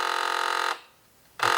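An Apple IIc floppy drive fails to read a bad side of an old disk and gives a loud, steady, harsh buzzing tone. The tone cuts out for about half a second, then starts again. No one speaks.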